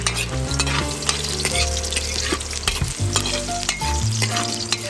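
Garlic browns and sizzles in a frying pan before onions go in, a close steady crackle with frequent scraping stirs and clinks of a utensil against the pan, no voices.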